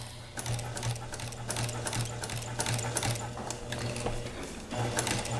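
A sewing machine stitches a quarter-inch seam through layered fabric, a steady close mechanical whirring with a low hum and rhythmic needle clatter, running continuously with brief changes in pace.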